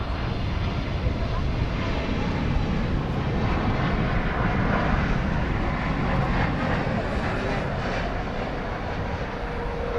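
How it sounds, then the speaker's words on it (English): A Cargolux cargo jet in 50th anniversary livery passing at DFW Airport, a loud, continuous broadband engine roar that holds steady throughout. "And here comes the Cargolux."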